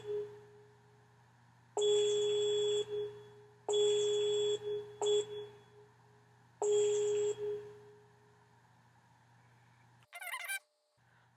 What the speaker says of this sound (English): how many different sounds can I get out of stove beeps